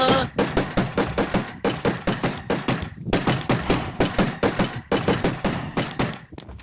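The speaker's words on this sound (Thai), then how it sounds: "มันยิงปืน มันยิงปืน มันก็ทำเราไม่ได้หรอก" Rapid bursts of video game gunfire repeat in a steady, rhythmic pattern, loud and close, with brief gaps between volleys and no talking.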